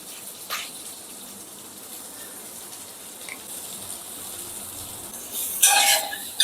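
Water poured into a pan of small fish cooking with salt, turmeric and chili powder, a soft steady gush and sizzle with a few clinks of utensils and a louder splashing burst near the end.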